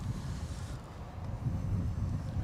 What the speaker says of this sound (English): As that breeze is gusting again.